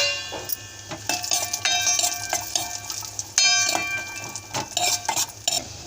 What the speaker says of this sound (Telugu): లైట్గా కలర్ వచ్చే వరకు వేయించుకున్నాక కిస్మిస్లు వేయాలి